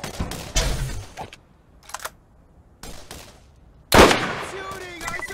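Gunfire in the shooter game Borderlands: short bursts of rapid shots separated by quiet gaps, ending in a loud sharp blast with a trailing tone, with a voice talking between the shots.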